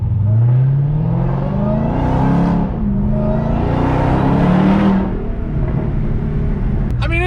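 A powerful stock Dodge Hellcat V8 engine idles and revs in rising and falling swells, loud and close, with a deep rumbling exhaust throughout.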